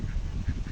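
Ducks quack in short bursts while a person with a stick chases them, the calls close and fairly loud with no talking.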